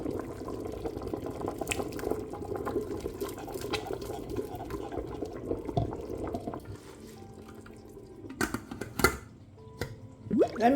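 Nigerian pepper soup boils in a pot during a food prep session, giving a steady bubbling, sizzling wash for several seconds that then thins out, followed by a few sharp clinks and knocks of cookware near the end. No one talks.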